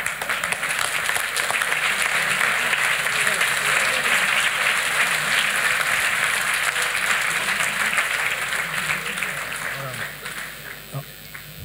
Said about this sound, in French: Je vais vous demander d'applaudir très fort Nicolas de Lamberterie et Ferenc Almasi pour